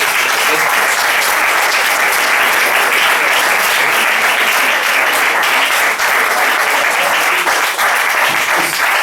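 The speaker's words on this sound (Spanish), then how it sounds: "vamos a dar un aplauso a Carlos y a Musel" Loud, sustained applause from an audience filling the whole stretch, dense clapping without a break.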